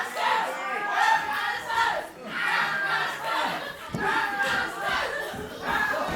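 A wrestling crowd in a village hall chanting and cheering for the wrestler Rap Master, rhythmic waves of massed voices rising and falling continuously.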